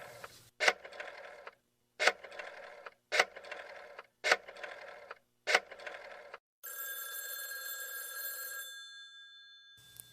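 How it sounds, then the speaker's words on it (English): An outgoing telephone call rings out: five evenly spaced ring bursts with short silences between them, then a longer steady electronic tone that fades before a final brief click. "let's make a phone call over to the university"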